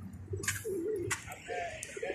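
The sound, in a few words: pigeons cooing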